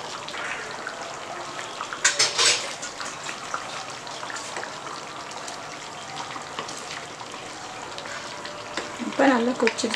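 Chicken white kurma gravy simmers in a pan with a steady bubbling, sizzling hiss, broken by a few louder stirring clinks and bursts, close up with occasional faint talk.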